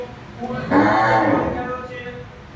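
A Gir cow lets out a single loud, drawn-out moo nearby over faint background noise.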